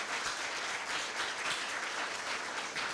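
Sustained applause from an audience at an academic award ceremony, with dense, steady clapping from many hands that carries on with no break, heard from a moderate distance and without any voices over it.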